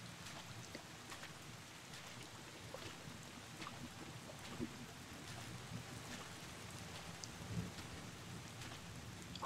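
Steady rain pours down with rolling thunder in the video game Bottle Pilgrim, a dense, continuous hiss with low rumbles swelling now and then, heard alone without voices.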